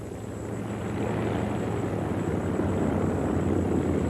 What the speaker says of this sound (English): As they make their way down the runway, the last plane to leave is the last one ever manufactured at the plant.